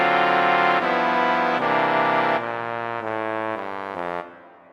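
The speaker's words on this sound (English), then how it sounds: "Just so you can hear what the trombones sound like" Trombone section playing sustained big band harmony in New Orleans style, a sequence of held brassy chords changing about every second, stepping lower before a final chord that fades out, no talking.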